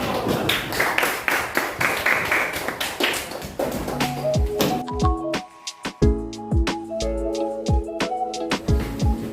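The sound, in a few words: classroom applause for group 4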